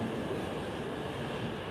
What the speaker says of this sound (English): That is the Tohoku Shinkansen and the Joetsu Shinkansen